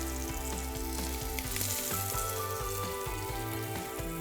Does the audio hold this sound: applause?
no